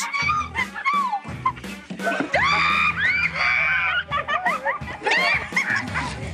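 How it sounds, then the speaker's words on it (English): Several voices shriek and squeal in rising, wavering pitches, mixed with laughter and yelps, loud and continuous throughout. "this next clip includes lots of screaming"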